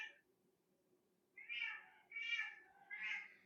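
A cat meows three times in a row, short rising calls close by in a quiet room with a faint low hum underneath and no talking.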